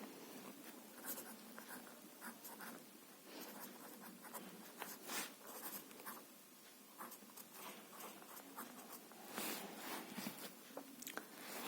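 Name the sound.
pen writing shorthand strokes on paper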